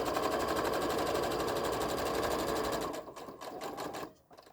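A sewing machine stitches fabric for a small tote bag pocket, running steadily and loud for about three seconds, then stopping and restarting in a few short bursts before going quiet.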